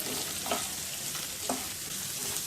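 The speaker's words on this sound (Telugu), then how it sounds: "క్యారెట్ ముక్కలను వేసుకొని వేయించుకోవాలి. కలుపుతూ 2 మినిట్స్ వేయించుకోవాలి" Carrot pieces frying in a pan with a steady sizzle, while a spoon stirs them in a few soft scraping strokes near the start and middle.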